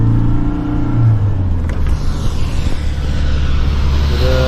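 A heavy car's engine labours up the Trollstigen mountain road in Norway, a loud, steady rumbling drone. The pitch shifts as it strains on the climb, with no talk.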